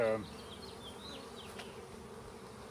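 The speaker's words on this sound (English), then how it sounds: "There are lots of young bees in this box" Young honey bees drone steadily inside a hive box, a close continuous buzz with a few louder passes, after a brief voice at the start.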